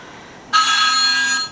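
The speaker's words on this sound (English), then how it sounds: "Phone's ringing." A telephone rings once in a single steady electronic burst, loud and close, after a quiet room.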